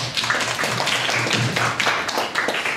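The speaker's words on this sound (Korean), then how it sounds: "박수로 환영하도록 하겠습니다." A church congregation at a sermon gathering claps steadily in welcome, a dense, even patter of many hands with no talking over it.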